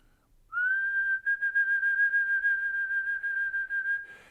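A single person whistles one long steady note with a pulsing vibrato that swells louder and softer rather than changing pitch, close and clear in a quiet room.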